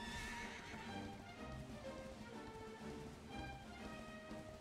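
In Dragon Quest XI S Definitive Edition, a summoned horse gives a bright whinny and then trots with steady clip-clop hoofbeats, quiet and alone.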